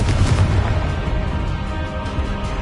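A Confringo spell explodes in the Hogwarts Legacy video game, a dense booming blast with a rumbling low end that fills the whole moment continuously, loud and close with no voices.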